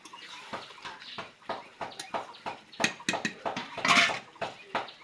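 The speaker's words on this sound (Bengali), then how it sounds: "ভেজে রাখা আলুগুলো এবার দিয়ে দিব।" Fried potatoes tipped into a pot of simmering chicken biryani in a home kitchen, giving a close series of clattering, clinking knocks against the metal pot, irregular and fairly loud, with no talk over them.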